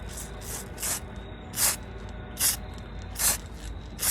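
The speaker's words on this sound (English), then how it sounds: "we're going to just do a little light spray on these" Light aerosol spray coating misted over pinecones for Christmas decorations, heard as a series of short hissing bursts, about six in four seconds, close and fairly loud with brief pauses between.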